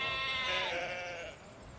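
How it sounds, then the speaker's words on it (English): A sheep at a caravan site gives a single loud, close bleat that wavers and drags out for over a second before trailing off, with no other sound alongside it. "This site is overrun with sheep."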